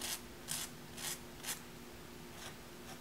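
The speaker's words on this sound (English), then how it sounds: "I'm just going to take a nail file" A nail file rasps against a fingernail to take off excess nail polish in short, evenly spaced strokes, roughly four quick scrapes, close and fairly faint, with no talking.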